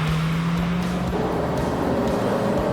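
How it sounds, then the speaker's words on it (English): Skoda Slavia 1.5-litre TSI car on the move, a steady low engine groan and road rumble filling the cabin, even and continuous throughout with no talk. "there is that gentle groan that does filter inside this cabin"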